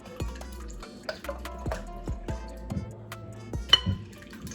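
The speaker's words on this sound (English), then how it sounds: "And I'm just whisking it up" Four eggs whisked in a bowl for a bloomin onion batter make quick, irregular clinks and light splashy taps, close and fairly soft, with no talking.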